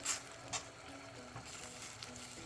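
Green onions cut into one-inch chunks stirred into a frying pan, heard as a faint continuous sizzle with a few soft scraping strokes, no voices.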